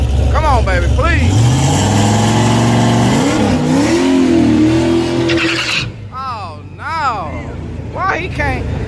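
A drag car at a street-style hood track revs hard, its engine note climbing and surging loud and close while trying to hold in place for a burnout, with voices in the background.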